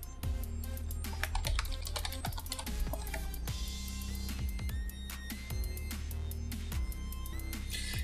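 Computer keyboard typing while entering server commands on Ubuntu Server 14.04, a dense run of sharp, close key clicks and clacks with bursts of rapid strokes and brief pauses, steady throughout with no voices.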